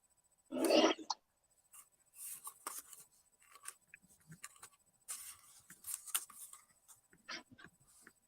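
A sheet of 8.5 by 11 inch cardstock is cut at a craft table, producing faint, dry scraping and slicing strokes that come in short, uneven passes after one louder handling rustle.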